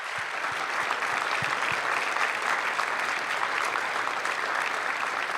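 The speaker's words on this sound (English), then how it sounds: "Another round of applause" An audience at a World Chess Hall of Fame induction ceremony claps in a steady, dense round that lasts throughout without a break.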